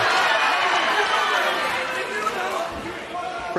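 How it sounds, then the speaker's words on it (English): A crowd at a Cage Warriors MMA fight reacts to an elbow strike, a broad, steady roar of cheering and chatter from a large audience, with commentary voices talking over it. "nice elbow from Freeman there. And that brings the crowd to life."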